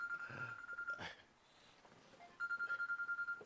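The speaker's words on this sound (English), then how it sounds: "Somebody is calling me on my phone." A mobile phone rings with an incoming call, a bright electronic ringtone pulsing in a quick rapid-fire burst, breaking off, then returning for a second burst, fairly close and loud in an otherwise quiet room.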